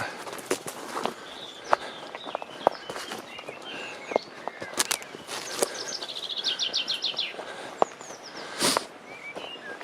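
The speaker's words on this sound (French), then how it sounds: "On entend les oiseaux ce matin." Birds chirp and trill in open air, a rapid repeated call standing out, alongside crunching footsteps on a path.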